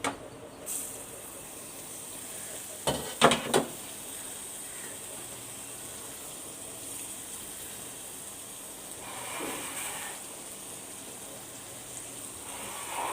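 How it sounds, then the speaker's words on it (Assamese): Tomatoes fry in a pan with a soft, steady sizzle, broken by a few brief clatters of utensils near the start. "বিলাহী ধুনীয়াকৈ ভাজি ল'ব লাগিব"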